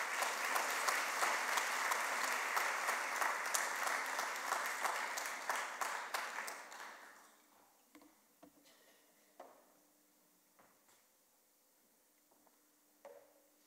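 An audience at the Global Art Forum applauds to welcome Rashid bin Shabib: dense, steady clapping for about seven seconds that fades out, leaving a quiet room with a few scattered knocks and shuffles.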